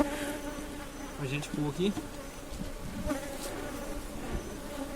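Honeybees buzz steadily around an opened beehive, a dense close hum with individual bees droning past, while someone speaks briefly in Portuguese.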